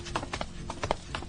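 A footstep sound effect for walking mimics galloping horses, giving quick, close clip-clop hoof-like beats in an uneven rhythm, about eight in a row.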